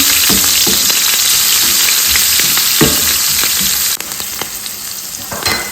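Curry powder stirred into hot frying oil in a pan for a plantain dish, giving a loud, dense continuous sizzle close up, with occasional scraping stirs that ease slightly toward the end.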